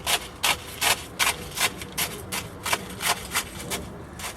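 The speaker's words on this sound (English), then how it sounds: "We're going to push down the rocks and try to get rid of those air pockets." Coarse rocky bonsai soil is pressed down around a barberry bush bonsai, making about a dozen close, gritty scraping strokes in a steady, even rhythm.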